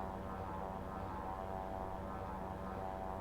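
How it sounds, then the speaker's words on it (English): A Sea Ray Elite seaplane in a flight simulator game drones with a steady propeller engine hum, constant and moderately loud, with no voices. "this is definitely a fun little plane"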